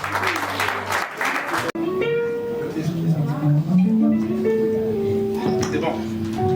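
A wedding congregation applauds during a church ceremony in Vitry-sur-Seine, a burst of clapping that gives way to sustained organ or keyboard music with voices underneath, fairly loud and close.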